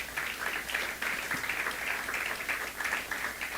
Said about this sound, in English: Ladies and gentlemen, please give her a round of applause.